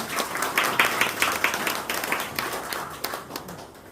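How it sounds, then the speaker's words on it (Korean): An audience at a Korean rescue organization's presentation event applauds to welcome a speaker to the stage, a dense, steady round of clapping that gradually tapers off. "큰 박수로 맞아주시기 바랍니다"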